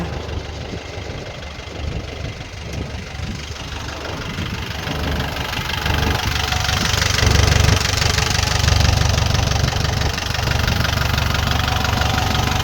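A Kubota L4508 tractor's diesel engine idles up close with a steady, knocking rumble that grows a little louder partway through.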